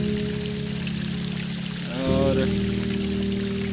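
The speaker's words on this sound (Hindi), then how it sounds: "हमने अभी एक छोटा सा धारा लगा रखा है यहाँ पे, पाइप मिल गया था हमको यहाँ पे पुराना।" Water pours from an old salvaged pipe into a container at a Himalayan trail camp, a steady stream that shifts pitch partway through as the vessel fills, with wind noise behind and a brief word spoken.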